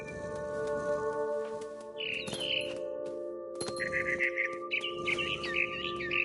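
Short chirps and tweets of a bird in the video game What Remains of Edith Finch, set against a steady tonal hum with a few clinking accents, and no one talking.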